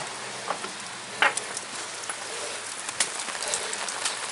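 Steady rain falls outdoors around a yard where animals are kept, a continuous patter with scattered louder drops striking nearby surfaces, no talking.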